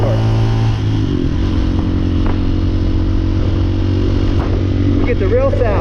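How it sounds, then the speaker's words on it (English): A Hawk 250cc motorcycle rides along while a GoPro's built-in mic picks up loud, constant engine drone mixed with rushing airflow, and a rider's voice rises over the roar near the end. "The sound of the motorcycle, the sound of me, the sound of the airflow, everything."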